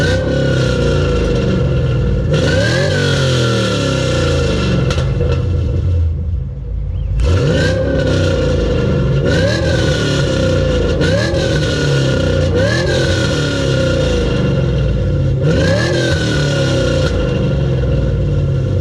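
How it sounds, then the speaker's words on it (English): A fifth-generation Chevrolet Camaro SS with headers and a Flowmaster axle-back exhaust blasts loudly up close, rasping metallic revs rising and falling repeatedly over a deep rumbling idle, with a short lull midway. "give you guys an exhaust clip of the headers and the Flowmaster axle back"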